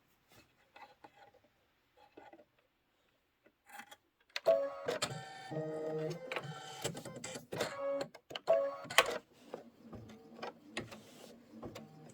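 A sewing machine stitches cloud quilting on a Kimberbell Spring Showers quilt with cream thread. Soft handling clicks come first, then a steady, fairly close mechanical stitching hum and rattle runs for the rest of the clip.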